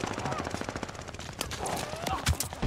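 Rapid automatic gunfire bursts in a 12v12 Call of Duty Vanguard multiplayer match, loud repeated shots and impacts throughout with heavier blasts near the end and faint voice in the mix.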